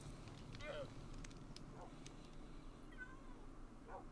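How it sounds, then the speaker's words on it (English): A cat meows in the Minecraft video game, a few short calls spread through the clip over steady background noise from the game. "This may be a traumatized cat, but it's an alive traumatized cat."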